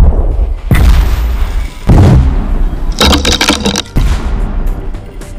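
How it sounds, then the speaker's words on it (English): Experimental man-made maar explosion blasts from a buried charge meant to form a crater, heard as several loud, booming broadband bursts in quick succession, each with a sharp onset and rumbling tail. "This one will do an explosion, and then we'll go deeper."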